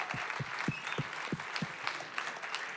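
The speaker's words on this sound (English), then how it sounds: "One more round of applause." An audience at the Westport Library claps after a band's performance, a modest crowd of scattered, distinct handclaps that rises and then thins out over a few seconds.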